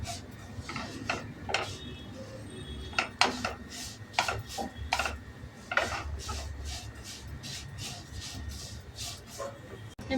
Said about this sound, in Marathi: अशी छान परतून घ्यायची शेवई